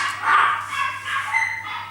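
A dog gives a couple of short, moderately loud barks and yips indoors in a crafting space, alone without talk, over a faint steady hum.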